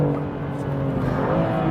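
BMW M2 CS on a race track, its engine droning steadily and loudly at high revs down the straight while the car slides, with a continuous close-up roar.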